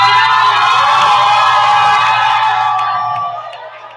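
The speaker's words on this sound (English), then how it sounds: "Let's clap for the MVP." A room full of training-day attendees breaks into loud, sustained cheering and whooping for the MVP, with shouts layered over the roar, which fades somewhat toward the end.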